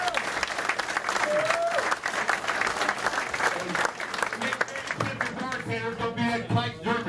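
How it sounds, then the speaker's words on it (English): A crowd at a basketball celebration banquet breaks into a big round of applause, dense and sustained, with voices and some chatter mixed in under the clapping. "give them a big round of applause"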